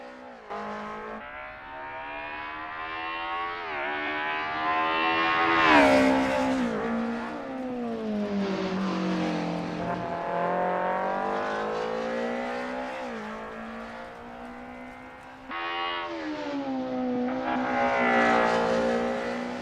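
A 1980s DTM racing car engine in a racing video game roars continuously, revving up and down through gear changes on the Kyalami circuit, with a sharp rev spike partway through and another surge near the end.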